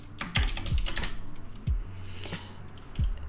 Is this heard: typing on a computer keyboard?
yes